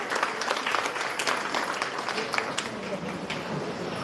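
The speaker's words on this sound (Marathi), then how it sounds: "अशा आपल्या शोभा जाधव यांच्यासाठी जोरदार टाळ्या झाल्या पाहिजे." An audience applauds Shobha Jadhav at a women's empowerment honours ceremony. The clapping is dense and sustained, loud throughout, with no voices over it.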